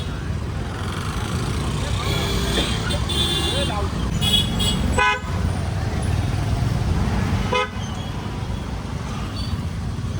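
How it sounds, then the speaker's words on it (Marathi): Heavy road traffic in Goa near Baga Beach at night, a constant loud rumble of engines with several short car horn toots, heard up close while people talk over it. "खूप जास्त ट्रॅफिक आहे खूप जास्त ट्रॅफिक"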